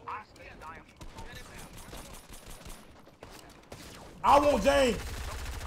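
Gunfire in Fortnite, scattered game shots under excited talking, with a louder close burst of shooting near the end as voices continue.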